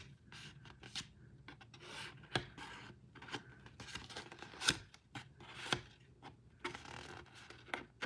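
Scissors cutting card stock along a score line for a handmade card and gift box, quiet crisp snips and rubbing scrapes at an uneven pace, close and soft.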